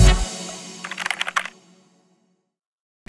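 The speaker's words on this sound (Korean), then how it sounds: "이건 레고 키보드인데요." Keys clatter on a LEGO-built pixel mechanical keyboard: one heavy thump, then a quick burst of about seven crisp clicks, close and loud, before silence.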